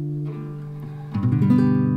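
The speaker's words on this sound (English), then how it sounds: "the second chord is also a minor" A sustained chord rings, then a second, darker minor chord enters and swells slightly louder, with no voices present.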